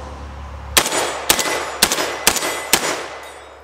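A gas-piston semi-automatic, magazine-fed shotgun with AR-style controls and a 19-round magazine fires five loud, sharp shots. They come roughly half a second apart, each followed by a short ringing echo, with no talk in between.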